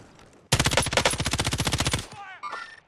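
Gunfire in Call of Duty: Modern Warfare: a loud, rapid automatic burst of evenly spaced shots lasting about a second and a half, followed by a short shouted voice.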